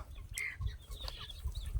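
Chickens on a small poultry farm where old and new roosters share a coop give a few short, close clucks over quiet background noise.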